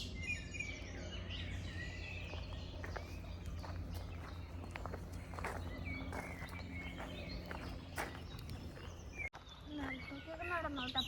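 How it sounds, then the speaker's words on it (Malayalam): Birds chirp and call sporadically in a Swiss forest along a trekking path, faint and scattered over footsteps crunching on wood chips and low background noise. "കിളികളുടെ സൗണ്ടൊക്കെ നല്ല സൂപ്പറായിട്ട് കേൾക്കാൻ പറ്റുന്നുണ്ട്."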